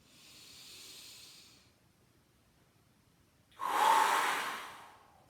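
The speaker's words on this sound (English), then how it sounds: "And then you take a deep breath in." During yoga practice, a soft outward breath hisses for about two seconds, followed by a pause and then a louder, deep inhalation drawn close to the microphone in a quiet room.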